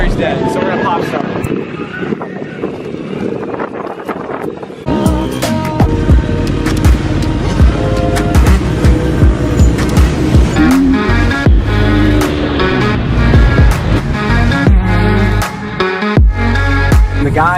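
A KTM dirt bike with a dead battery is pop started: a muffled, windy rumble gives way to a loud, sustained engine roar that runs steadily close to the microphone, with gusts of wind noise throughout.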